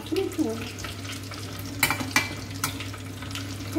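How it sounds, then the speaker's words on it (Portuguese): Salt cod fritters fry two at a time in a small pan of hot oil, a steady close sizzle with brief stirring and utensil clicks. "Vamos fritar de dois em dois, para não correr o risco dele abrir com a fritura."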